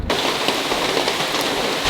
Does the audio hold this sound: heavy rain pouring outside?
yes